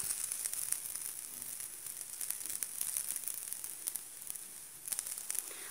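Bread browning on one side in a frying pan, a soft steady sizzle with fine crackles and scattered pops, quiet and close with no talk.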